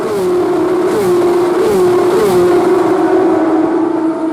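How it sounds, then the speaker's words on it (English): GT race cars at Sebring International Raceway accelerate out of a turn, a loud sustained engine drone with a few rising gear-shift swells, continuous and fairly close. "Here they come, coming through the exit of turn 17. Love that sound."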